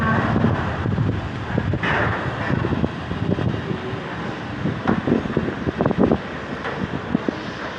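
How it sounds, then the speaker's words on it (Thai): Wind buffets the microphone steadily during a boat ride in Bangkok, a loud continuous rumble with a faint engine drone underneath and no voices. "จุดนี้ลมก็จะพัดมาเย็นๆเลยพี่น้อง"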